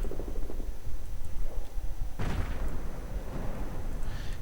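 A Stuart light tank fires in a World War II strategy video game, delivering a sharp, loud cannon blast partway through amid a dense rumble of battle noise.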